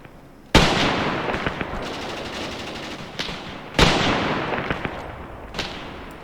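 Gunfire in the WWII video game Graviteam Tactics Mius Front: two loud, sharp blasts a few seconds apart, each trailing into a long rumbling echo, with lighter pops and distant shots in between.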